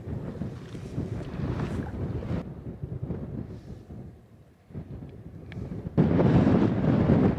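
Strong wind buffets the microphone on the summit of Sgurr Mor in Torridon, a 986-metre Munro, roaring steadily with a brief lull near the middle before surging louder again at the end.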